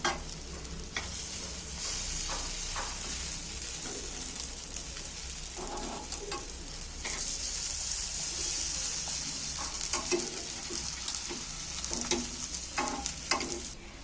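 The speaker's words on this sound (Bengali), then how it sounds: "এক এক করে উল্টো পাল্টে ভেজে নিল এগুলো তবে এটা হালকা আঁচ দিয়ে ভাজতে হবে" Egg and onion pieces fry in a pan over low heat, giving a steady broadband sizzle with occasional clinks and scrapes as pieces are turned one by one.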